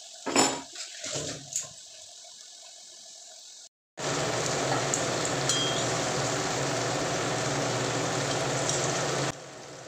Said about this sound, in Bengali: ডালের বড়াগুলো ভেজে নিই।